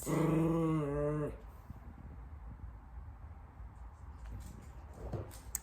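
A pet dog growls loudly and steadily in a home for about a second, with a harmonic, whining edge, then fades into quiet room noise and a faint later yelp.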